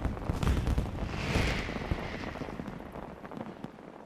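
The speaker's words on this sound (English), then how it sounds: "it really looks like he came here to look at the fireworks" Fireworks burst in the Final Fantasy XIV video game, a dense crackling rumble of overlapping pops and booms that swells and slowly fades, fairly loud with no talking.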